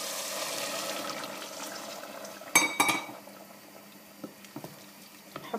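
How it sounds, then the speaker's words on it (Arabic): Hot boiling water poured into a pot of Tunisian hlalem stew with tomato paste, a steady liquid rush fading into soft splashes and a few light clinks of pot or utensil near the end. "نحط إيطرا ونص ماء سخون يغلي"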